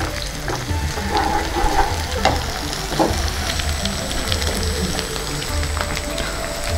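Ginger garlic paste frying with onions in a pan for a raw mango egg curry, a loud continuous sizzle and crackle with occasional stirring scrapes, no voices over it.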